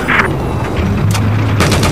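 Rapid machine-gun fire in Battlefield 4 on Xbox One, a loud dense burst of overlapping shots and booms filling a short moment of close combat.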